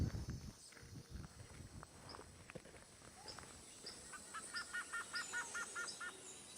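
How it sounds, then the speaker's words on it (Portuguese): Forest birds roused before dawn by flashlight beams give a quiet run of repeated high chirps, faint and somewhat distant, with soft rustling and steps in the background. "Sem querer, acabamos acordando os passarinhos com a luz das nossas lanternas"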